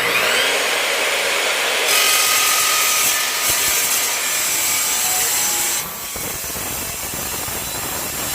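Dry cut saw slicing through metal stock for a sculpture, a loud, close, harsh rasping whine that holds steady for several seconds before the pitch drops as the blade finishes the cut.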